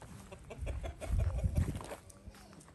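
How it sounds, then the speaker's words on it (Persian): An agitated rooster among hens on a poultry farm clucks in a rapid run of loud, close squawks that peak in the middle and taper off toward the end. "شاکی شده خروسه"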